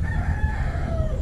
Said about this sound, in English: Or that would be a rooster.